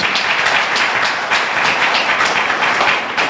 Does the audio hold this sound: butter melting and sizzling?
no